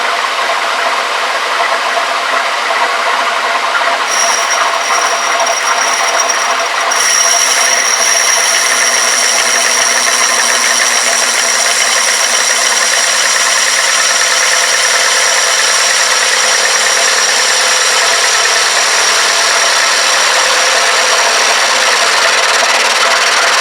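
A homemade metal lathe with its carriage runs steadily, giving a loud continuous motor whine and mechanical hum with a high-pitched tone that comes and goes partway through, close and without voices.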